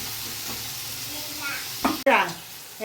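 Onions and tomatoes fry together in a pan, giving a steady close sizzle that runs throughout, with a few louder scrapes and clatters from stirring near the end.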